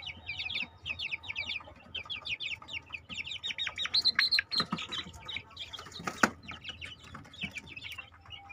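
Rapid high-pitched chirping from several chicken chicks, continuous and busy, with a few louder clucks and thumps breaking through midway.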